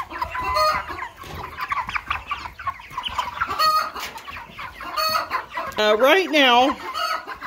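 Many Cornish Cross meat chickens, about 40, cluck and squawk close by while being fed, busy and overlapping, with a rooster-like call near the end and a brief spoken phrase early on.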